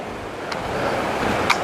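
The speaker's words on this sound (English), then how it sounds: "very nice little river." A small river flowing beside the Appalachian Trail, a steady rushing hiss of moving water heard close and continuous, with a couple of faint brief clicks.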